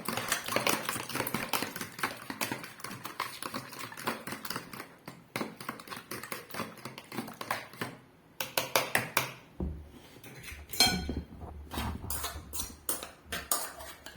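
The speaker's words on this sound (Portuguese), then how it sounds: "dei uma mexidinha ali no ovo" A utensil beats and stirs egg in a bowl, giving rapid, irregular clinking and scraping taps that come in bursts with short pauses, close and moderately loud, no voices.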